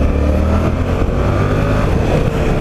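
A 2017 Yamaha Tracer 700 A2 twin-cylinder motorcycle accelerates, its loud, steady engine roar filling the whole stretch with continuous wind-blown drone and no pauses.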